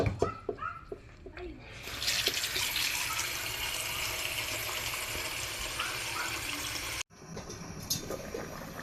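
Water pours steadily into a cooking pot for a home-cooked Filipino dish, a continuous close rushing splash that runs about five seconds and stops abruptly, with lighter kitchen clatter before and after.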